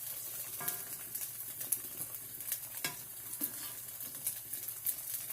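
Tofu sizzles and fries in a pan while being turned and stirred, a steady crackle broken by scraping utensil strokes; nobody speaks.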